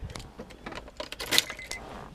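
Keys jangling and turning in the ignition of a 2003 Honda Accord EX-L with a 5-speed manual, a close, brief series of metallic clinks and rattles with a sharper click near the end.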